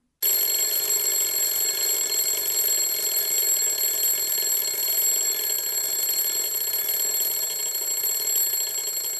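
A mechanical alarm clock rings continuously and loudly on its own, a steady bright bell tone with no pauses from start to finish.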